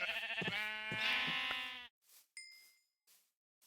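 A video game sheep from the block-building world lets out one long wavering bleat up close, then a brief higher second bleat follows after a short silence, with a faint chime at the end.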